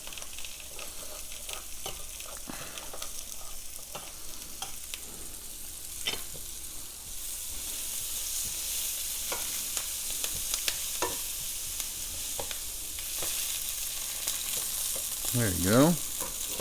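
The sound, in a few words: Italian sausage sizzling and crisping in a pan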